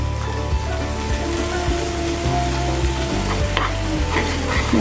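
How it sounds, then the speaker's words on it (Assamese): Tomato, onion, ginger and garlic paste frying in a pan, giving a constant close sizzle broken by repeated scraping and stirring knocks of a utensil, with no voices. "আৰু মই এতিয়া এই বনাই থোৱা পেষ্টখিনি ইয়াতে ঢালি দিম।"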